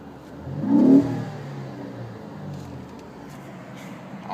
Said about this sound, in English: It's an awesome sound from that new EcoBoost engine. Get that turbo sound as well.